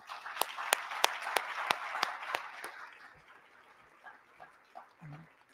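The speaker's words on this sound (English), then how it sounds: "Give them a round of applause." An audience claps in a steady, evenly spaced rhythm that trails off after a few seconds, followed by a quiet room and a short low grunt near the end.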